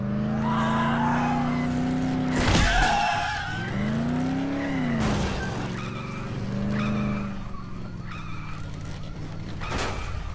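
Car engine in the Dead Island video game revving and droning steadily with pitch swoops, broken by sharp skidding screeches around the third and tenth seconds, loud and continuous with no talk.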